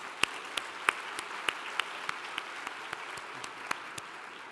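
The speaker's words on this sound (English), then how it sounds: "Please join me in a round of applause." Scattered, sparse claps ring out at a luncheon gathering, a handful of distinct sharp hand claps spaced through a soft background murmur rather than a full ovation.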